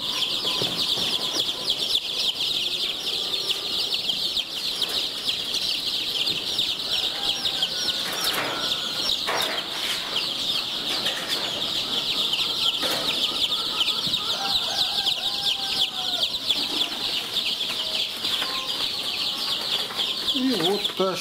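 A crowd of chicks cheeps and peeps continuously and densely at close range, with soft rustling and fluttering underneath.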